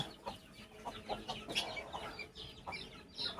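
Several hens cluck continuously nearby, their short overlapping calls forming a busy, steady chatter.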